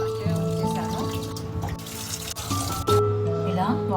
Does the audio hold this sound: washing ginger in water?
yes